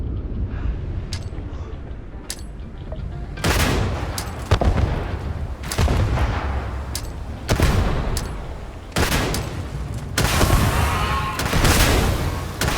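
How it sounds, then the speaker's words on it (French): Combat in the video game Starfield: repeated loud gunfire bursts and booming grenade explosions, several heavy blasts spaced through the fight over a constant rumbling battle background, with no talking. "On va y envoyer des grenades, tiens."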